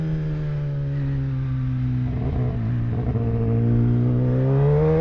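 Kawasaki ZX-10R motorcycle engine running on a mountain ride, a loud, close, steady harmonic drone whose pitch dips slightly and then climbs as the revs rise toward the end.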